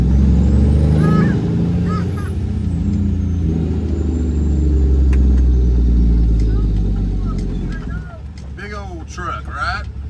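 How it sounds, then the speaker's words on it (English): Air hissing from a leak on a Detroit Series 60 cabover truck, a thin steady hiss over a loud low engine rumble, with brief sharper hissy bursts near the end. "You hear that little hissy noise?"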